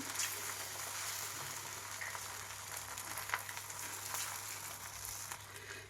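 An egg fries on a hot tawa, street-food style, giving a steady, close sizzle with faint crackles throughout and no voices.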